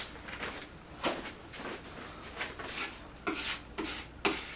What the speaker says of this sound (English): then I'll lightly sand it